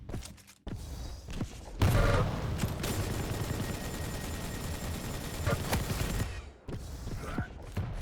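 Rocket and nail weapon fire in a video game duel: a dense, loud burst of rapid shots and explosions that rolls on for several seconds, framed by brief quieter moments with sharper single impacts.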